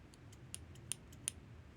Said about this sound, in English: These are like heirloom quality scissors.